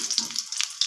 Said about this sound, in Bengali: আমি এভাবে ডুমো ডুমো করে আলু কেটে রেখেছিলাম, ভেজে নেব।